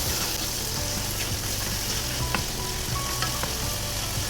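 Chopped tomatoes for fried chicken biryani sizzle steadily in a pan while being stirred, a loud continuous frying hiss with occasional scraping clicks from the spoon and no voices.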